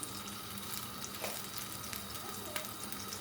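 Steady crackling sizzle of butter and olive oil frying in a hot pan for menemen, continuous and fairly quiet, with no voices.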